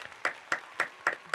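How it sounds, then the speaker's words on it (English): Five sharp hand claps at a steady rhythm, about a quarter second apart, close and fairly crisp against a quiet room. "that's my hand clap there"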